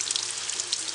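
Water poured into a bonsai pot of repotted black pine, rushing and draining through fine soil grains as a steady hiss with close trickling detail.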